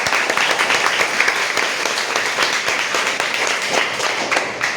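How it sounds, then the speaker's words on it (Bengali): A classroom audience claps together for a student during an English grammar lesson, a steady burst of dense applause filling the room without pause. "সবাই তার জন্য একটা হাততালি দাও"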